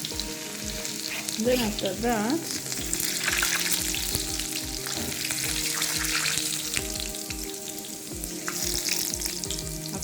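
Garlic fries in hot oil with a loud, continuous close-up sizzle and occasional stirring, while a person speaks briefly over it and faint rhythmic music plays underneath.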